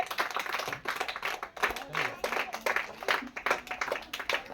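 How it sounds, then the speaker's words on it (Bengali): An audience at a ball colour-matching prize competition claps in bursts of fast, close applause, with a voice talking over it. "সবগুলো বল মিলিয়ে নিতে পেরেছে দর্শক হাততালি হাততালি হবে"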